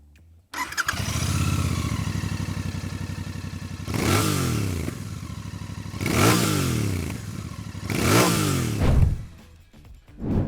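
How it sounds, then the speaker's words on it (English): Royal Enfield Bear 650 motorcycle exhaust note: a loud, close burble settles into idle, then three sharp throttle blips rise and fall in turn before the engine cuts off. "let's check out the exhaust note of the Bear 650"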